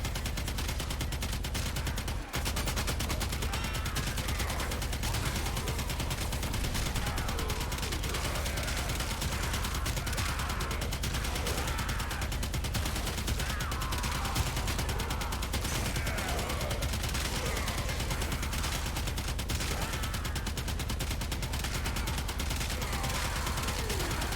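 Dense, relentless gunfire from dual Twin Kohmak shotgun pistols in the shooter game Warframe, with overlapping bursts and explosive crackle running unbroken throughout.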